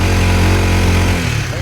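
A Kawasaki Ninja motorcycle engine runs close by at a steady, smooth idle with a constant low hum and rumble, while a person talks over it.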